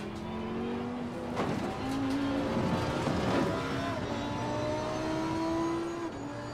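A race car in Assetto Corsa Competizione laps Monza around the second chicane, its engine whining loud and steady, dropping and rising in pitch through downshifts and reaccelerations, with brief tire scrub in the middle and no voices.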